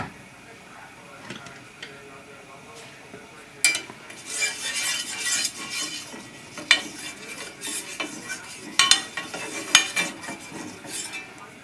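Eggplant slices cooking in a small greased skillet, with a soft hiss broken by scraping, clattering utensil taps and pan knocks that grow busier toward the end, heard close with no speech.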